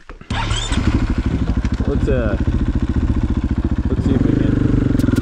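Motorcycle engine running close while riding up a dirt trail at Indian Valley Reservoir, a steady throbbing idle and rev that rises toward the end, with someone talking over it.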